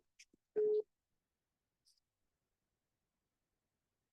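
A phone rings once with a short electronic tone, followed by a faint blip and near silence.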